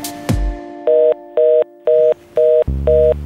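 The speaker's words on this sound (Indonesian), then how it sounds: "Masih ada suaranya, masih bisa ditelepon berarti Giska belum ngeblok gue" A telephone ringback tone while a call is placed, five evenly spaced loud beeps about half a second each, preceded by a click and followed by a low buzz.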